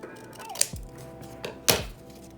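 Scissors trim material for a handmade potion bottle craft, with a few crisp, close snips and light thunks spaced irregularly over a quiet room background.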